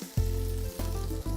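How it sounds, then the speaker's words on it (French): Quails browning in oil in a saucepan, sizzling loudly and steadily with brief dips as the pieces go in and settle, close up with no talking. "on ajoute nos cailles et on va les laisser dorer de chaque côté"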